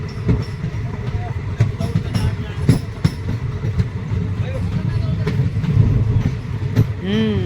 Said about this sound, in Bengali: বিকেল প্রায় 4টের সময় জঙ্গলের পড়ন্ত বিকেলে ট্রেন তার ফার্স্ট হল্ট হ্যামিল্টনগঞ্জ ঢুকছে।